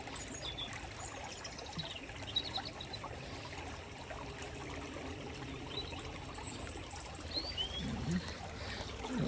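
Stream water trickles and pours faintly into a sample container, a low, continuous watery flow with small splashes.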